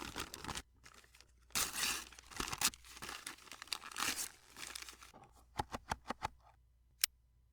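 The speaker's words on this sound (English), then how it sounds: "I am not used to wrapping with paper." Gift wrapping paper torn and crinkled: bursts of rustling and ripping, then a run of sharp separate crinkles and snaps near the end, close and quiet with no talk.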